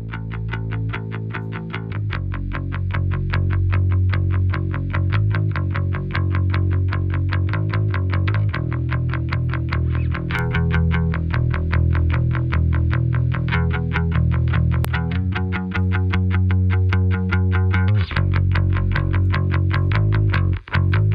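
A bass guitar is processed by the Kiive Xtressor compressor plugin with a parallel mix and sidechain high-pass filter, playing a steady loud picked line with heavy low end and a clear attack on each note.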